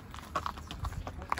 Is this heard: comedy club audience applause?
no